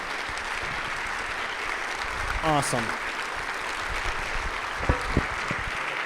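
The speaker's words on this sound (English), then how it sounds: "Big round of applause" A church audience applauds after a guest speaker's talk, with steady, dense clapping that holds an even level throughout. Someone speaks briefly over it.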